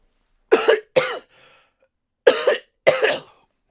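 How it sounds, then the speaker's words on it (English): A sick person coughs in two quick pairs of harsh, close bursts, with a short throaty rasp between them and silence around. "And I'm like coughing up."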